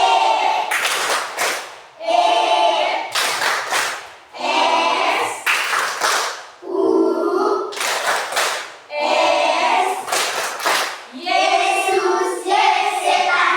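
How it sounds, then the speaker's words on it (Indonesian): A class of students in a classroom performs the Tepuk Yesus clapping chant, with sharp bursts of hand claps in a rhythmic pattern alongside chanting voices, loud and close. "Tepuk Yesus."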